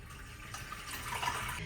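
Water pouring steadily into the bowl of a boat's marine toilet, a continuous close hissing splash that swells slightly toward the end, with no talking.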